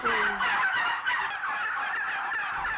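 Bronze turkeys kept in a shed gobbling in a dense, continuous chorus of many birds, loud and close with overlapping rapid warbling calls and no talk.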